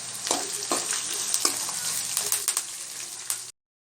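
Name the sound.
crushed garlic and onion sautéing in a pan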